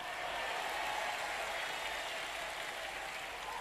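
Applause from a sermon audience at a police headquarters in Tegal, heard as a steady, dense wash of clapping that holds at an even level throughout, with no voices rising above it.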